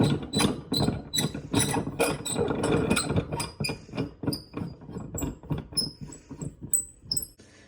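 A ratcheting cheese press is cranked down onto cheddar curds, a loud, close burst of rapid mechanical clicks that comes in quick bunches and slows into sparser, sharper ticks near the end.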